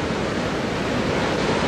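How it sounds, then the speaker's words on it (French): Ocean waves crash steadily against a sandy shore, a loud, continuous wash of surf with windy noise and no voices. "Tu vois comment les vagues s'abattent contre le sable des côtes."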